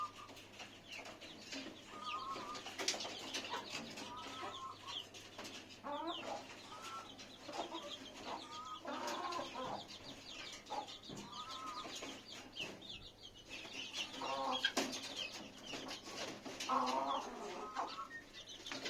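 Chickens cluck and chatter steadily throughout, overlapping calls from several birds at moderate distance, with no voices.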